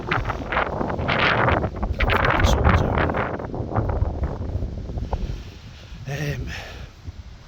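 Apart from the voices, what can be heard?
wind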